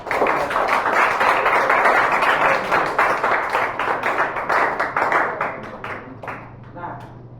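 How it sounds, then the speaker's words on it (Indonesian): Classroom students clap together in a brisk, dense burst of applause, close and loud, thinning out toward the end with a few scattered claps as a faint voice lingers. "berikan tepuk tangan"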